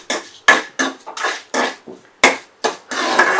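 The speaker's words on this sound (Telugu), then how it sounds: "చట్నీ పోపు ఎగుతోంది." Chutney tempering spluttering in a hot pan, with a series of sharp, irregular crackling bursts that end in a steadier sizzle. The sound is close and fairly loud, with no talking.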